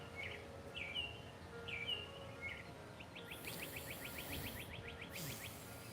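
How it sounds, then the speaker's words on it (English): Birds sing outdoors in a few short, bright chirping phrases early on, followed by a rapid run of repeated clipped notes, all over a steady hiss of open-air background; no one speaks. "I get to sit outside, hear the birds"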